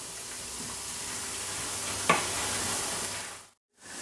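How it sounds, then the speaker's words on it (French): Faint, steady sizzling of fresh herbs and onions cooking in a frying pan, with a single stir or click near the middle and a brief drop to silence near the end. "je vais mélanger et je vais laisser cuire mon herbe à peu près 3-4 minutes pour qu'elle s'infuse correctement dans mes oignons"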